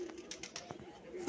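Faint soft, intermittent cooing of golden high-flyer pigeons over a low steady hum, close by.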